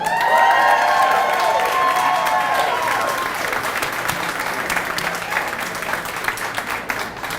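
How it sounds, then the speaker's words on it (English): A film festival crowd breaks into loud applause and cheering, whoops and shouts riding over dense clapping at first, then settling into steady, slightly thinning clapping. "That is definitely not enough applause."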